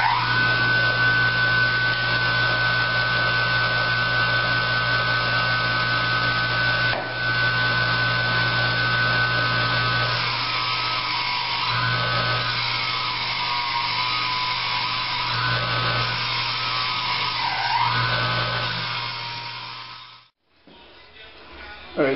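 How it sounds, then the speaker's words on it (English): Bench grinder fitted with a wire brush working a steel knife blade, steady whirring hum with scratchy brushing texture, loud and close, running continuously before spinning down near the end. "I just got done with this on the bench grinder with the wire brush"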